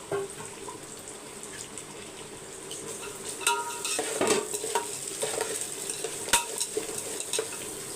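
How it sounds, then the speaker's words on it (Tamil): Thinly sliced small shallots sauté in a pan with a continuous soft sizzle, punctuated by scraping and clattering from stirring with a utensil, growing a little busier toward the middle. "இப்போ இது வதங்கட்டும் வதங்கினோன்னா ஒரு கால் கிலோவுக்கு சின்ன வெங்காயம்"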